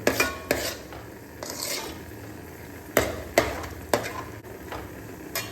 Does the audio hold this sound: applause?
no